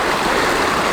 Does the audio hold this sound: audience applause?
no